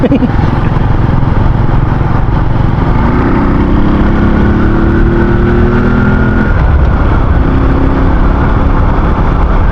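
A faulty motorcycle engine drones loudly and continuously on the road, revving up briefly in the middle while riding, with heavy wind rumble over it.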